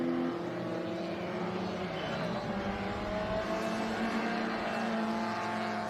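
Historic racing cars at the Monterey Reunion, Laguna Seca, roar steadily past the circuit's commentary position, a continuous loud engine drone with shifting pitch as several cars pass close by.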